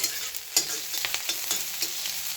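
Onions fry in a pan until lightly browned, a steady close sizzle broken by several sharp scraping clicks of a utensil stirring against the pan.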